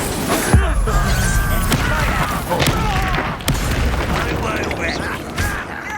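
In Hogwarts Legacy, an Incendio fire spell is cast with a heavy, whooshing boom amid dense game combat noise, sharp impacts and voices throughout.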